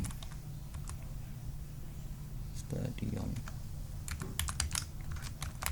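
Quick keystrokes and clicks sound on a computer keyboard in bursts, close and fairly soft over a steady background hum, with a brief low murmur of voice partway through.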